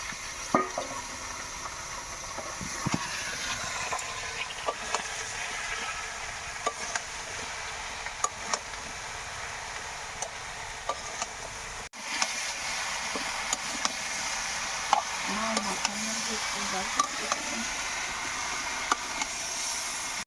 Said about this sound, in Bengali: লাউগুলো ভাজি করে নিলাম